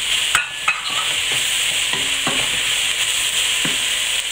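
Cuttlefish pieces tipped back into a pan of caramelising onions, giving a loud, steady sizzle with several clattering stirs and scrapes of a utensil throughout.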